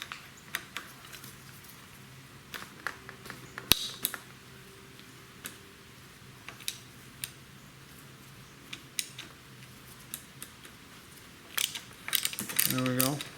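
Tools clicking and ratcheting with scattered metallic ticks while a lower fork bolt is loosened on a Harley 39mm front fork, fairly quiet and near, with a louder clattering rattle at the end.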